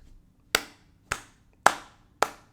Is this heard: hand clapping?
yes